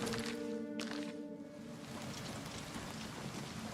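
Steady patter of rain from the weather effect in the PC game Oblivion Remastered, a dense hiss that stays even throughout under a sustained tonal music drone.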